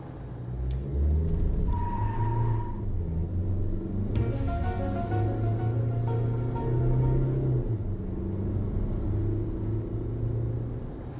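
A Changan Hunter 2.0 4WD double-cab engine revs up and holds a loud, rumbling drone, easing and rising again with a brief whine near the start.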